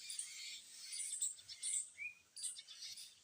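Birds chirp and call in a mango tree, reacting to cats climbing in its branches: a run of thin, high, quick twitters that keep coming, faint and fairly distant, with no voices.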